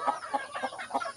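Native-breed chickens clucking close by, a quick series of short rhythmic clucks over about a second.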